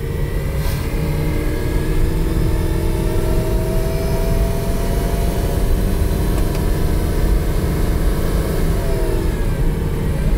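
A Ford Explorer engine with a slipping 5R55W automatic transmission drones loudly and steadily while revving in first gear, its pitch slowly climbing before dipping near the end as the gearbox shifts, with no talking.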